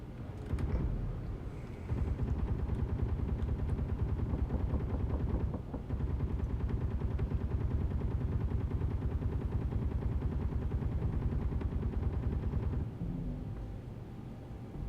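Guns on an automated base turret in the Space Engineers video game fire a dense, continuous rapid rattle of shots that keeps going for more than ten seconds, loud and steady, with no talking over it.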